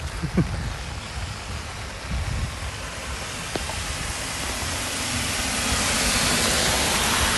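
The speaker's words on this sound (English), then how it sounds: "Yeah, it's raining, man." Steady rain falling outdoors on a university campus in Phuket, Thailand, a broad even hiss that grows slightly louder toward the end, with a few faint knocks and rustles near the start.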